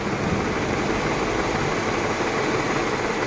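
A car engine idles with one fuel injector unplugged, a loud steady close drone with a slightly uneven rumble and no pause; nobody speaks over it.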